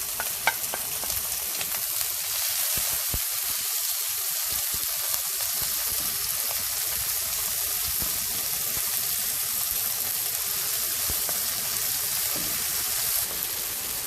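Chopped onion frying in two tablespoons of hot oil, a steady close sizzle and crackle with occasional stirring scrapes, no talking.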